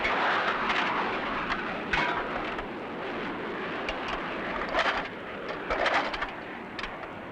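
A 30 mm cannon on a French Air Force combat aircraft fires with a dense, loud roar broken by sharper bursts, set against a constant rushing background.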